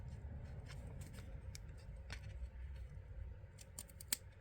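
Scissors snip through ribbon at an angle while finishing a bow on a fold flower card, giving several quick, close, crisp cuts over a steady low background rumble.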